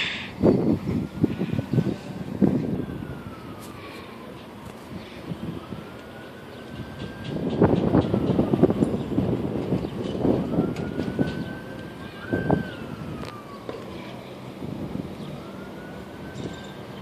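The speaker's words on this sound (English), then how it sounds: "Train coming." A Via passenger train passes through Danforth, its horn sounding in a few drawn-out blasts over a rising and falling rumble and rattle of wheels. The train is moderately loud at mid distance, and brief exclamations come between the blasts.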